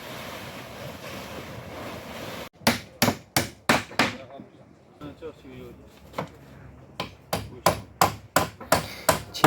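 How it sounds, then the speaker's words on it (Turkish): Repeated hammer blows on a door ring out in steady bursts, a pause between two runs of strikes, over a windy, outdoor background at a livestock market. "Kapıyı çakan bizim Hüsamettin amcamız."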